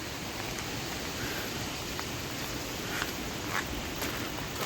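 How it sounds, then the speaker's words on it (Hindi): Heavy rain falls on a foggy day as a steady, dense, moderately loud hiss with no breaks and no voices. "बारिश हो रही है इतनी ज़्यादा"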